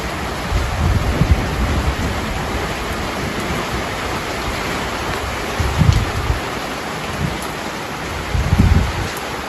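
Steady, loud rain pours over a vegetable garden of potatoes, peppers and squash, with low thunder rumbles swelling at intervals beneath the constant hiss.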